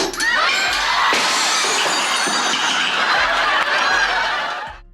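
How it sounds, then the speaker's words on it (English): A chandelier crashing onto the floor on the set of the sitcom Only Fools and Horses: a loud, close shattering of glass that keeps tinkling and clattering for several seconds before the debris settles, with no talk. "The chandelier fell exactly as planned, smashing dramatically on the floor."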